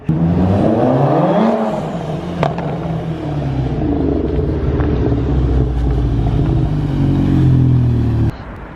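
A 420bhp Seat Leon Cupra engine revs hard and loud, close by, in a rising and falling roar that holds steady before cutting off near the end.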